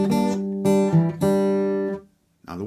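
An acoustic guitar plays a short phrase, three ringing strummed chords close up, followed by a brief pause and another chord starting.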